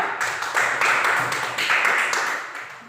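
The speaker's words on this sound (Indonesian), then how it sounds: "tepuk tangan untuk kelompok 3" Classroom applause for a student group at an elementary school, a steady patter of many hands clapping together at moderate loudness, swelling in a few waves and fading toward the end.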